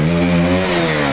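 A Duke 200 motorcycle engine revs loudly and close during an off-road Sunday group ride, a steady buzzing drone with rising and falling pitch that fills the whole moment, no talk over it.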